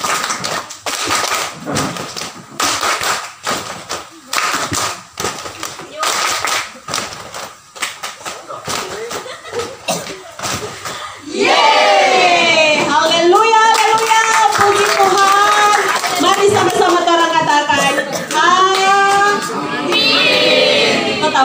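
A church congregation claps their hands together in worship, a loose run of claps near and loud that gives way to a sustained burst of singing and cheering voices.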